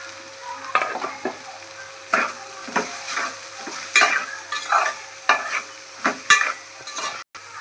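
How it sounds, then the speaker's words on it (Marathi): Okra fried in oil over medium gas heat and stirred in a pan: rhythmic scraping stir strokes about once a second over a soft, steady sizzle, close up with no talking. "याला आपण आता तेलात चांगले भाजून घ्यायचे पाच ते दहा मिनटं मिडियम गॅसवर"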